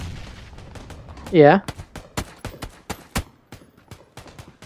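Micro Uzi bursts in the video game PUBG, a series of sharp gunshots fired in quick uneven succession after someone briefly speaks.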